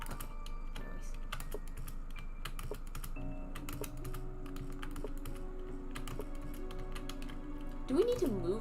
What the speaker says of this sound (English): Can you hear my keyboard is clagging?